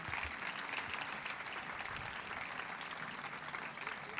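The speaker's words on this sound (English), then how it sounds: "applause for our managing trustee" An audience at a Sri Sathya Sai ceremony in Chennai gives the managing trustee a dense, continuous round of clapping, steady and fairly distant throughout.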